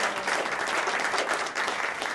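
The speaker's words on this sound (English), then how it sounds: "How about we all clap for the school teachers, everybody?" A comedy club audience applauds school teachers in a dense, steady wash of clapping that holds loud and even for the whole stretch.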